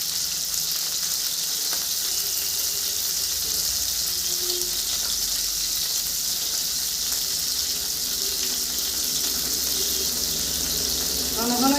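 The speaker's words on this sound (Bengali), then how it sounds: "মাছটা ভেজে দেখাচ্ছি।" Tengra fish fry in hot oil with a loud, steady sizzle that holds throughout, and a brief voice is heard faintly underneath.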